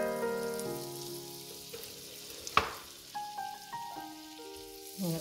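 Butter fries in a pan with a quiet, even sizzle, broken by one sharp click midway and a few soft knocks, over a faint tonal background.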